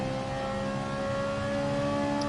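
A Ferrari Group 4 race car engine in GT Sport holds a loud, constant high-revving drone with a smooth tonal whine, running steadily without a break.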